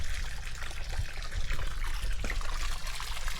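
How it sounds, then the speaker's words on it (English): Water trickles steadily through a portable filtration rig set up on a bikepacking route, a continuous close liquid flow with no talking. "Here's my water filtration rig system."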